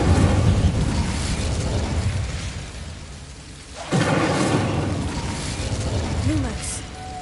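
Incendio fire spell bursts in Hogwarts Legacy, a sudden boom and whoosh of flame midway through, set amid ongoing game sounds and a rumbling background with a voice present.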